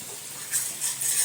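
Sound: slit green chillies added to hot pan, sizzling

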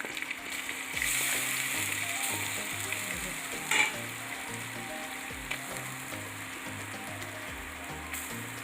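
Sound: stirring fish peera with coconut in a pan on low flame

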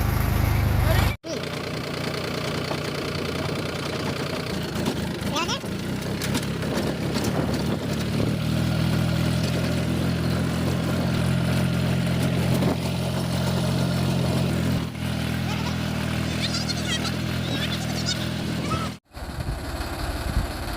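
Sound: tractor engine running

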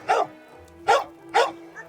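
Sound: dog barking, Staffordshire terrier crossed with pit bull

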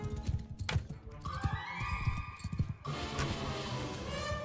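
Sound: horse in Mount and Blade Bannerlord video game

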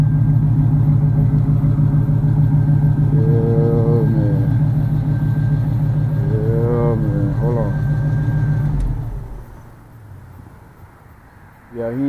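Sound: LS-swapped 1979 G-body car engine running

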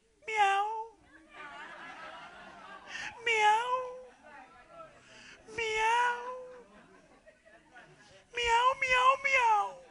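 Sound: preacher imitating a cat meowing

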